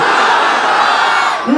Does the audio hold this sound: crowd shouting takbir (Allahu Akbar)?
yes